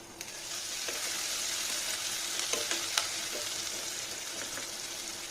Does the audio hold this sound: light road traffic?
no